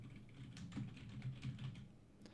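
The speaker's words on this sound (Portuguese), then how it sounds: "Ou tem gente que vai mexer no teclado, começa a mexer no teclado." Quiet, close typing on a computer keyboard: soft, irregular key taps with a few louder thuds over a low hum, no voices.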